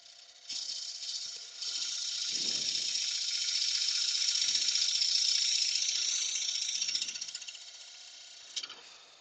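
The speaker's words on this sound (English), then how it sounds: "3/8 gouge to clean up the edge. Just going to do several passes over this to get it round." A 3/8 gouge making several passes to round over a wood edge, a sustained rasping cut with a few short scrapes in between, close and fairly loud, fading near the end.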